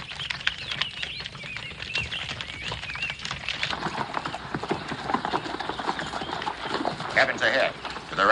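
Horses' hooves clip-clop in a steady, uneven patter as a group of riders moves along, mixed with shuffling and movement from the animals, with no talk.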